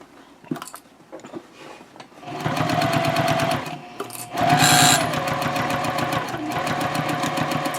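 After a few quiet handling sounds, a sewing machine runs a seam on a messenger handbag, stitching continuously and loudly with a brief backstitch surge midway, and no talk.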